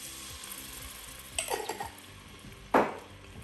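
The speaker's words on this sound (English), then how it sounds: "just give that a good stir to make sure that it starts to sizzle nicely in that groundnut oil" Laksa paste sizzles in groundnut oil in a pan, giving a faint, steady frying hiss broken by a few sharp clatters and scrapes from stirring.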